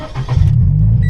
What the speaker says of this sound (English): Now if I put the key up against the button and try to start the car